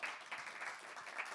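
Faint, brief applause from a small audience at a French TV game show, a short patter of clapping heard from a distance.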